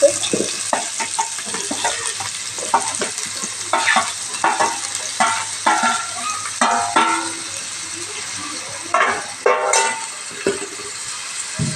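Green chillies, tomatoes and carrots fry in a pan with repeated scraping stirs over a continuous sizzle, close and fairly loud, the stirring strokes coming in uneven bursts.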